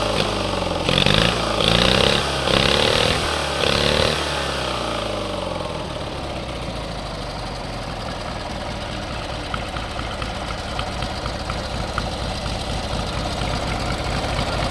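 An MTD racing lawn tractor engine idles close by. A few seconds of louder, pulsing revs at the start settle into a steady, rough, rumbling idle.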